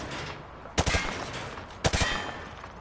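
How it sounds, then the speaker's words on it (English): Two short bursts of gunfire from Modern Warfare 2, fired from a crouched stance while aiming down sights, each a sharp loud crack with a brief rattling tail, spaced about a second apart over quiet background. "I need you to fire while crouched"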